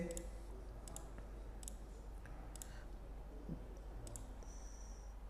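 A computer mouse clicks a handful of times at irregular intervals while someone fills in an online form, sharp close taps over a faint steady hum.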